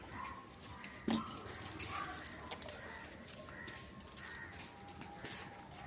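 Water is poured onto bean plants in a home kitchen garden with a faint, soft splashing and trickling. Crows caw in the background.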